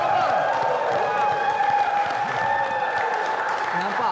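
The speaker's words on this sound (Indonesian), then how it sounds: "Kita berikan tepukan" Studio audience applauding during a Malaysian TV car-care program, a steady dense clapping wash lasting throughout, with a voice and a faint tonal backing running over it.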